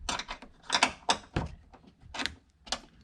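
A socket wrench works on a seat belt bolt inside a Honda Fit, giving several separate metallic clicks and ratcheting clatters at close range, with short pauses between them.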